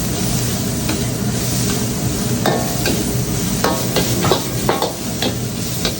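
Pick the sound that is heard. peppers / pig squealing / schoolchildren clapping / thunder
peppers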